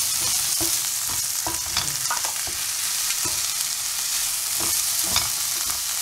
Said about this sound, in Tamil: இந்த தக்காளி பழத்தை போட்டுட்டேன். இது கொஞ்சம் வதங்கட்டும்.